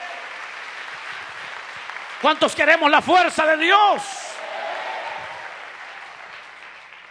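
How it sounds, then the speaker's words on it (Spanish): Church congregation applauding in steady broadband wash, with a preacher's voice speaking loudly over the middle of the applause before it fades slightly and continues. "Denle un fuerte aplauso al Señor."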